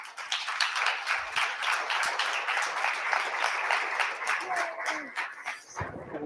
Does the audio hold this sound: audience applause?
yes